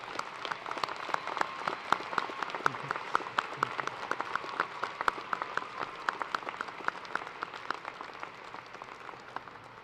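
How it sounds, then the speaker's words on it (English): Sustained applause from a commencement audience, a dense steady patter of many hands clapping throughout a university graduation ceremony, moderately distant and without speech. "giving a hearty round of applause to thank these family members"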